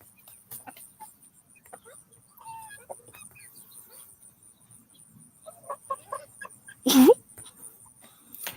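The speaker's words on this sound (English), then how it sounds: "Look at the rooster down there." Backyard chickens with a rooster cluck softly and intermittently from a short distance, with a louder squawk near the end and someone talking quietly in between.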